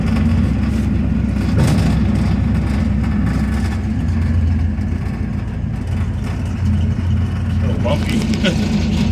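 A 1949 Studebaker gasser's engine runs steadily as the car drives, a loud, rough low drone that holds on without a pause, with someone speaking faintly underneath.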